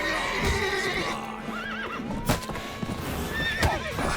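A horse whinnies with a wavering, rising call over clattering hoofbeats and background sounds, fairly close, in the video game The Witcher 3: Wild Hunt.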